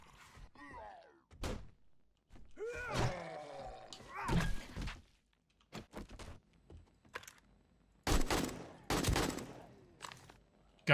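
Gunfire in the survival video game 7 Days to Die Alpha 21, heard as several loud, sharp bursts scattered through the clip between stretches of quieter game noise and clicking.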